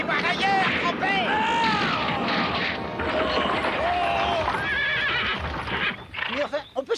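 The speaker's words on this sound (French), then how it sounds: "Faites repartir ces chevaux" Cartoon horses whinny loudly with rising and falling cries while hooves clip-clop steadily underneath, a busy, close, continuous chase scene from an animated Zorro adventure.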